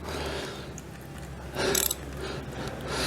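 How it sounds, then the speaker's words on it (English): A ratchet fitted with an oil filter socket loosens the Suzuki oil filter on a Suzuki V-Strom motorcycle, making quiet, close ratcheting clicks in short runs with no talking. "I'll use the filter socket for this."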